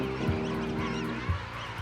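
Adult penguins gather around an ailing bird and call together, producing a continuous chorus of harsh, honking, braying calls that rise and fall, close and fairly loud.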